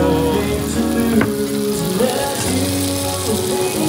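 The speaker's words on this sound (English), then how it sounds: "got seafood sizzling plate" Steady, loud sizzling of seafood frying on a hot sizzling plate, with a continuous crackle and hiss and no voices.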